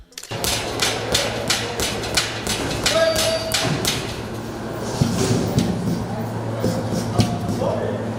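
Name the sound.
steel weights hitting rubber flooring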